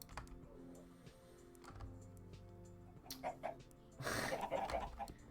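Clucking and a soft pop as a chicken lays an egg in Minecraft, brief and quiet amid game ambience and light clicks near the end.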